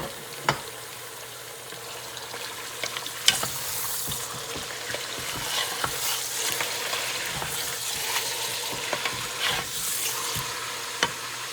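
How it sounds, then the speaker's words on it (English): Meat for biryani fries in a pot with a loud, continuous sizzle, broken by occasional sharp knocks and scrapes of a stirring utensil. "Just stir it for like 2 minutes, just before adding all the other ingredients."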